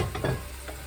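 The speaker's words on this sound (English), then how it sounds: "Got my sausage in the skillet here. Got my butter melting here." Sausage and melting butter sizzle in a skillet, with a soft stir or scrape near the start, a brief close burst of frying without any talk.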